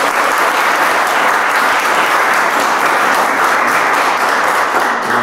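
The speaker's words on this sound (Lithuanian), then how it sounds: "su plojimais būtų smagu sutikti svečią mūsų" A full audience applauds warmly to welcome a talk-show guest, Mantvydas Leknickas, a dense, loud, even wash of clapping that continues unbroken throughout.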